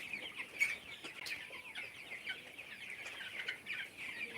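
A flock of broiler chickens on a poultry farm keeps up a faint, continuous murmur of clucks and chirps, heard from a distance with no talking.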